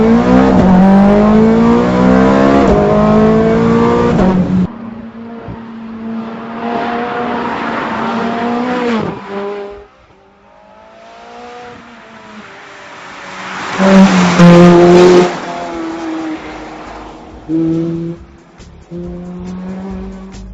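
A 2009 Ferrari 430 Scuderia sports car drives fast on a bumpy secondary road, its loud engine climbing and dropping through repeated revs and gear changes, with brief tire squeal and no talking.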